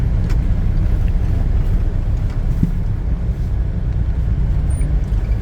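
A car idles steadily up close, a continuous low engine rumble filling the scene without change while it sits parked in shade at a fuel stop waiting to be refuelled.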